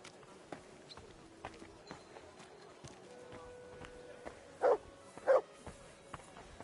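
A dog barks twice in quick succession in the medieval role-playing game Kingdom Come: Deliverance II, the two short barks standing out clearly over a quiet ambient game soundscape with faint footsteps.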